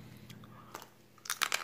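Korean baked potato flavored snack biscuits crunch between teeth in a few sharp, close bites, with quiet pauses between, the loudest cluster of crunches coming near the end.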